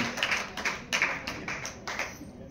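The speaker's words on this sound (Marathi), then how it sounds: "जोरदार टाळ्या झाल्या पाहिजेत" Scattered, fairly quiet clapping from a small audience welcoming a grandmother at a press event, with about half a dozen distinct claps spaced unevenly.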